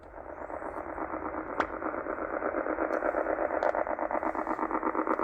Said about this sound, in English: It sounds a little bit like it could be like a radar or maybe some interference or something.